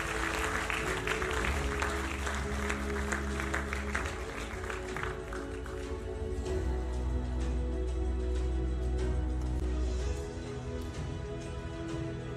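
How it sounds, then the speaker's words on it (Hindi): Loud, sustained applause from an audience at a book launch of three books, dense clapping running steadily for about twelve seconds against a humming hall background. "एक बार जोरदार तालियां हो जाए।"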